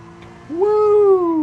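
A car engine in Gran Turismo 7 revs up sharply and holds a steady, rising-then-easing tone, loud and close, with no talk over it.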